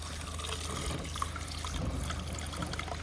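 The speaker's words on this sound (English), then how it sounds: "That is actually hot water coming out of there." Hot water pours and trickles from a farm workshop pipe once an airlock has cleared, a soft, steady liquid splashing and dribbling that stays fairly quiet and continuous.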